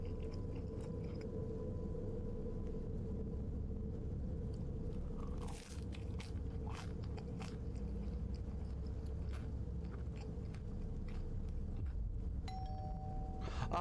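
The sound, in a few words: doorbell ringing at the door in a video game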